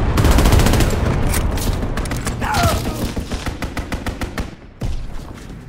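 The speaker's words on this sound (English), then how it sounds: "Enemy bomber! Incendiary bombs incoming!" In Call of Duty: WWII, a World War II shooter game, rapid gunfire rattles in fast repeated bursts, with heavy thuds and booms of bombs mixed in, loud and close throughout.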